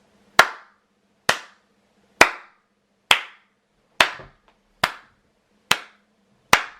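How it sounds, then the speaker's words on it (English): Eight slow, evenly spaced hand claps, sharp and close, each ringing out briefly into silence before the next. "Len first stood up and clapped like this"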